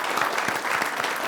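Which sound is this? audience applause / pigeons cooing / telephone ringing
audience applause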